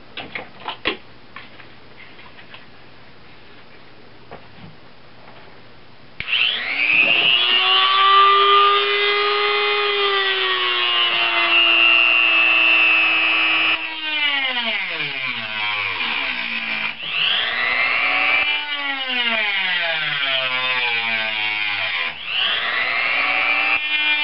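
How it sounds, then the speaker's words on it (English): A Dremel rotary tool grinds into a steel knife blank with a loud, continuous whine whose pitch sweeps up and down as the load changes. The sound runs unbroken for many seconds after a quieter, rattling start. "I am going to start off with just the Dremel, trying to get in here as tightly as possible"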